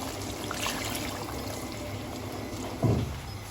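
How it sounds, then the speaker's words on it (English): Water poured into a pot of simmering mutton masala gravy, a soft steady trickle under faint kitchen noise with a brief louder splash near the end. "here I'm going to add another 4 cups of water"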